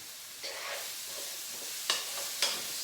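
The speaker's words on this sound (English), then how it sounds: "I'm gonna let those saute for about 4 or 5 minutes" Minced garlic sautéing in a pan with other ingredients: a soft continuous sizzle broken by three short, louder scrapes of stirring, close and without talk.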